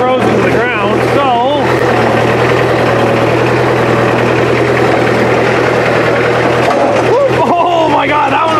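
A loader's engine idles loud and close as a steady mid-low drone, with a voice talking over it at the start and near the end.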